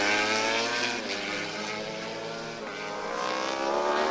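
Yamaha road-racing motorcycles at Motegi during an All Japan Road Race Championship race, engines roaring steadily as they slow under braking, the note dipping mid-pass and rising again, fairly loud and continuous with no talk.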